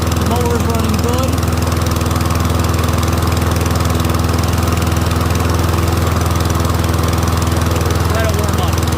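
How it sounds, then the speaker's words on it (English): A Troy-Bilt rear-wheel self-propelled lawn mower engine runs steadily and loud throughout, a continuous close drone with no pauses. "The mower's running good."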